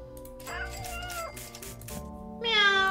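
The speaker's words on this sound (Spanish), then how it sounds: "¡Miau! ¿Me puedo llevar al gato para casa?" A cartoonish cat meows in the video game Lost But Found, several short tonal calls and a higher, louder meow at the end, with music and game sounds underneath.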